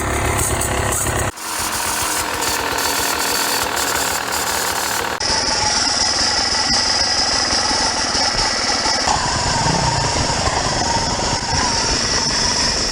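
A Beta RR300 or RR250 dirt bike engine with a failing main bearing runs steadily with a harsh mechanical rattle and knocking, the tone shifting partway through as a high whine rises; no talking.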